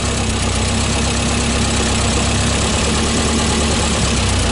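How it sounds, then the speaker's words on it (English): A VW buggy engine with a dual two-barrel carburetor and Stinger exhaust idles loudly and steadily, a dense continuous rumble with a slightly uneven beat and no voices over it. "Dual two-barrel carburetor's got the Stinger exhaust system on it."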